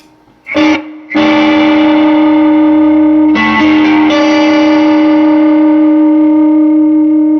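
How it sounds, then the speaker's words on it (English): Loud electric guitar through a Supro 1970RK Robert Keeley Custom amp's chorus effect: a quick strummed stab, then long shimmering chords that ring and sustain, changing once midway. "chorus"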